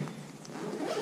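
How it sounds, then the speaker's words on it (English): A zipper being drawn along a compartment of a baseball bag, one short continuous rasp up close that grows a little louder toward the end. "Again. It's a zipper."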